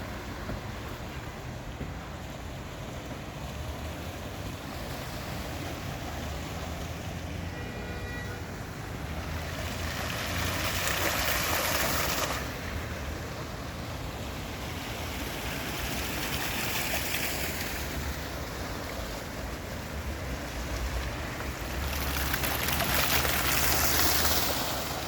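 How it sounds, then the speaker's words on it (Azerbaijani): Fountains and a small waterfall in Victory Park, Baku, Azerbaijan send out a steady rushing splash of water that swells slightly at times, continuous and fairly close, with no voices. "ətrafında fəvvarələr, burada balaca şəlalə"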